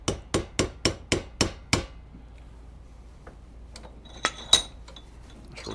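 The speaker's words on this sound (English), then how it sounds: "Going to take our easy out. Tap it down in there." Sharp metallic hammer taps drive an easy out into an Amal carburetor part for a BSA, Triumph or Norton motorcycle: seven quick, evenly spaced strikes close up, then quiet with a couple of faint clinks.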